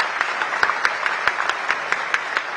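Sustained audience applause fills a hall at a Gandhinagar appointment-letter award ceremony after Chief Minister Bhupendra Patel's speech: dense, steady clapping from many hands with periodic sharper claps standing out, fairly loud and with no voices over it.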